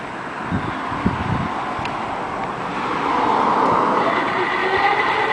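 A Triple Threat PedalChopper motor bike engine running: a steady, close rumble and whir that grows a little louder partway through, with no talking.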